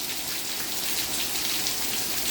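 Steady rain falls in East Mesa, Arizona, a dense, even hiss of drops pattering on surfaces with no pauses and no voices.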